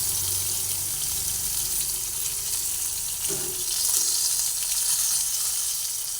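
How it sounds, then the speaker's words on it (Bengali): Tomatoes and spice paste frying together in a pan, a steady close sizzle with a soft clink partway through, no talking. "সব একসঙ্গে ভেজে নিচ্ছি টমেটো একসঙ্গে ভেজে নিচ্ছি"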